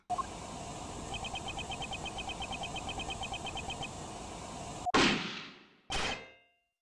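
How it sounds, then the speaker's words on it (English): Gunshot played back on a recording in the Ace Attorney Investigations 2 video game: a steady ringing electronic tone with chirping pulses gives way to two sharp, loud bangs about a second apart, each followed by a quick decay. "That was a gunshot."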